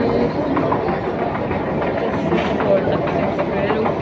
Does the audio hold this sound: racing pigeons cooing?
no